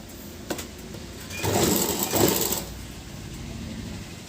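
A sewing machine stitches a blouse, with a brief click, then two bursts of fast mechanical whirring in the middle, set close and fairly loud, trailing into quiet hum.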